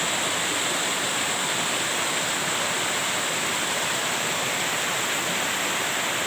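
Steady, full rush of flowing water, loud and continuous with no breaks, like a nearby stream or waterfall.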